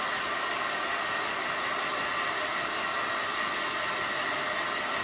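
A blow dryer runs loudly and steadily at close range, drying layers of craft material for a sloth pillow, a constant broadband whoosh with no break and no talking.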